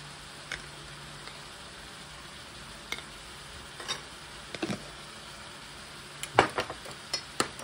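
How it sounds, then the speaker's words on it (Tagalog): A sauce mixture with brown sugar is stirred in a bowl, a quiet background hiss broken by scattered clinks and scrapes of a utensil that grow busier toward the end, close and without speech. "Haluin natin. Yung sauce mixture natin, ayos na."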